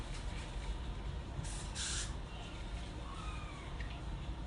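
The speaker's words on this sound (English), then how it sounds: "And so I'm just gonna spray a little bit more." Short hisses of Gotta Be Glued hair spray misted onto a lace closure during a wig install, two close bursts over steady room noise.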